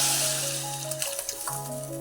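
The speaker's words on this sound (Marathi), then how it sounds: "हे जे येळवणी काढलेलं पाणी आहे ते आपल्याला वतायचं आहे त्याच्यामध्ये" Water poured into hot frying masala paste in a home kitchen, a bright crackling sizzle that fades and settles into a softer bubbling hiss, with a steady kitchen hum underneath.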